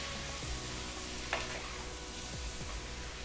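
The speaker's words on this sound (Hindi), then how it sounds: "इसमें नींबू डाल लें आधा, ठीक है, ये मैं अपना वर्जन कर रहा हूँ। ये लीजिए, नींबू डाल लिया, मिक्स कर लेते हैं।" Spoon stirring a monsoon vegetable dish of tattu bean pods just after half a lemon is squeezed in, a soft continuous scraping with faint sizzle and one brief clink near the middle, heard alone without talk.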